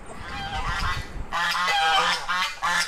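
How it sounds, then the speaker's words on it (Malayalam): White and common ducks with six newly hatched ducklings call close by in loud, repeated honking bursts, one short run of calls followed by a longer series. "ഇവിടെ പുതിയതായിട്ട് വിരിഞ്ഞിട്ടുള്ള താറാവ് കുട്ടികളാണ് കേട്ടോ."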